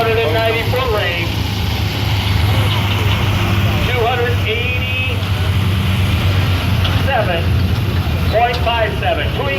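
A pulling tractor roars through a tractor pull run, a loud sustained engine drone with shifting pitch sweeps, while an announcer talks over it.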